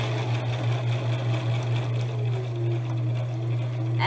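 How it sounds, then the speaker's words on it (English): A sewing machine stitches steadily down a length of fabric for a beginner's reversible napkin, its motor giving a constant close hum at an even pace with no talking. "I'm going to continue to start sewing all the way down the fabric"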